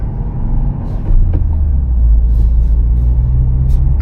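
Subaru WRX (VB) with a manual gearbox pulling away as the clutch is let out quickly, a steady low engine drone that swells slightly and holds loud and close throughout, with no talk over it.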